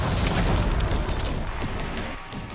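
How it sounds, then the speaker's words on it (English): Mortar explosions pound a rooftop in the video game Resident Evil Requiem, a dense, loud low rumble of overlapping booms that rolls on without a break and eases slightly toward the end. "there's like 4 different mortars on this"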